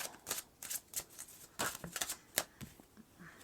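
Oracle or tarot cards are shuffled in a quiet room, a series of quick, crisp riffling bursts in irregular rhythm, close and fairly soft, with no talking.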